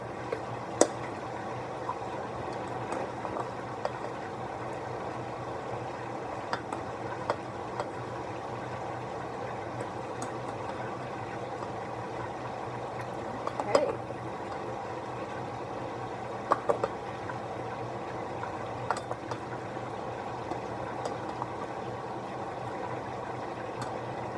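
Butter simmering over low heat in a pot for a seafood boil, a steady soft bubbling hiss with faint scattered pops and clicks, close and continuous, no talking.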